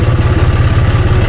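A tractor engine idling, a loud close low chugging with fast, even pulses and a mechanical rattle, steady throughout, no voices.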